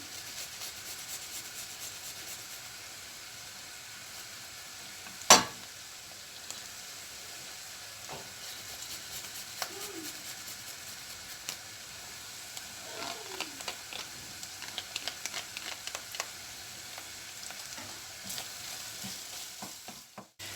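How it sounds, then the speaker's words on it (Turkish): Meat and onion sauté in a pan for a dried okra soup, a continuous low sizzle with one sharp clack early on and scattered stirring scrapes later. "Et ve soğan iyice sotelendi"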